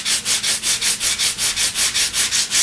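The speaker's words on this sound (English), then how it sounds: "just a few seconds with the sanding block and you get a nice tapered trailing edge" A sanding block is rubbed briskly back and forth over the wooden trailing edge of a model aircraft wing, making a close, loud, steady rasping in about a dozen even strokes with no talk.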